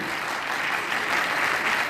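Audience at an award ceremony clapping steadily and fairly close, a dense even wash of applause with no voices over it.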